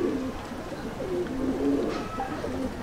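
Home-bred Dabbwale pigeon chicks give soft, repeated coos and low warbling calls, close by and fairly quiet, with faint background noise.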